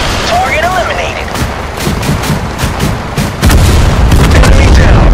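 Gunfire in the video game Total Conflict: Resistance, loud rapid bursts of shots and booming impacts in a steady rhythm, rising into a heavy rumbling barrage near the end, with voices calling out between shots.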